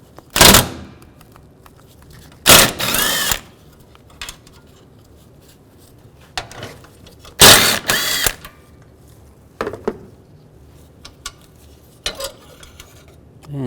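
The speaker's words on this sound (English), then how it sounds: "Use a 10mm socket." A ratchet fitted with a 10mm socket loosens the oil cooler bolts on a Chevy Tahoe, giving loud, close bursts of rapid clicking at intervals, separated by quieter handling noises.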